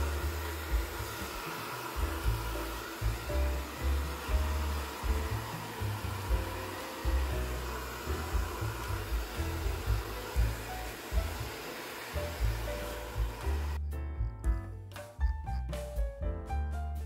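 A hair dryer on its cool setting at high speed blows dust out of a household vacuum cleaner through its opened top hatch, a steady loud whoosh with a pulsing low rumble that cuts off near the end.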